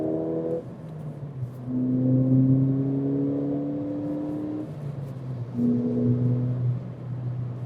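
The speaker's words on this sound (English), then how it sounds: "Did I mention this car sounds good too with the sound composer?" A 2014 Ford Fiesta ST engine, its note shaped by the sound composer, revs up through a gear with a rising hum, drops on a shift, then climbs again, steady and fairly close with no talk.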